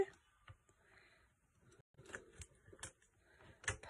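Scissors snip while decorating gingerbread, a handful of short close cuts mostly in the second half, with quiet rustling and faint speech in the room.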